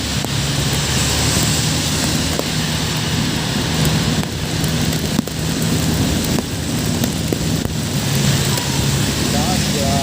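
Heavy rain pours steadily and loudly throughout, heard from shelter under a footbridge, a dense continuous roar with occasional voices faintly underneath.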